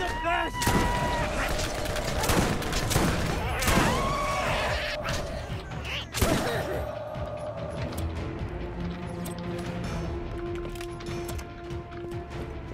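Bursts of gunfire from the shooter game Borderlands crack in rapid, repeated volleys over the first half, then thin out to sparser shots and impacts over a lingering electronic hum.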